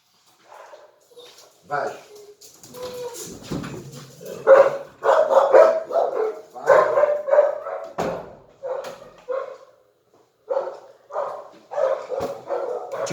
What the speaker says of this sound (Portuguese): Agora é o cachorro.